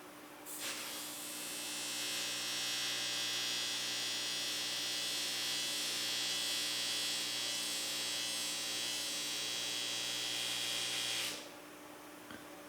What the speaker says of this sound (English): I'm just using basically an electric arc to melt the base metal